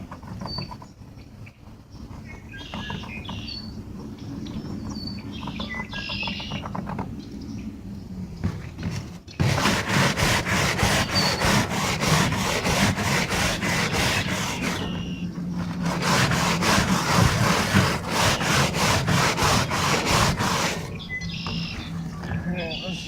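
Metal polish is rubbed over a metal surface to lift a small rust spot, giving long stretches of rapid, rhythmic back-and-forth scrubbing, loud and close, with brief pauses in between.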